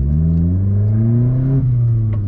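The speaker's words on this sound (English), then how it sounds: "I'm literally just going to go slowly, slowly, slowly, slowly, slowly. And quickly show the revs" A Vauxhall Corsa engine fitted with a throttle controller hums close by, its pitch climbing smoothly as it revs up, then dipping slightly.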